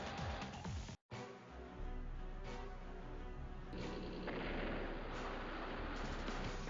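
Gunboat striking a battleship in the strategy game Advance Wars: Days of Ruin: loud, continuous booming blasts and explosive rumble, broken by a brief silent gap early on, then a sustained heavy barrage.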